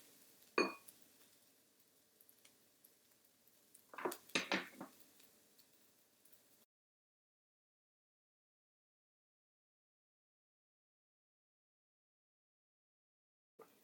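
A metal spatula scrapes and gathers egg-white omelette mixture across a flat griddle in a few short clattering bursts, close and fairly quiet, followed by a long stretch of silence.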